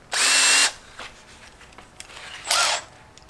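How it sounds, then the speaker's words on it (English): A 3/8 pilot drill boring in a fishing rod shop, one loud whirring burst at the start and a second shorter burst near the end, with faint clicks and handling noise between. "we grab a 3/8 pilot drill"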